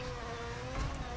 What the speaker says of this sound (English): I forgot just how brutal these Rally 1 cars sound